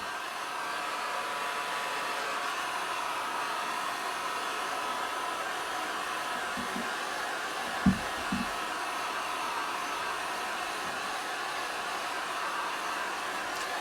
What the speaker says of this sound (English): It's too loud, so I can't really speak and have the heat gun on.